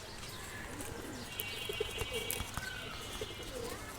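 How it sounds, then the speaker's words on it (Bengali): A pair of boot-beaked Musallam pigeons cooing softly at close range, several low repeated coos against a quiet background with faint chirps and small bumps. "এই যে একজোড়া মুসালদম পেয়ার বুট ঠোঁটের মুসালদম পেয়ার"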